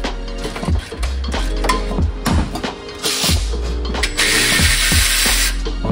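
A hand ratchet clicks repeatedly while breaking loose nuts on a Toyota Supra downpipe, rhythmic close metallic ratcheting strokes with occasional clanks, loud and free of talk.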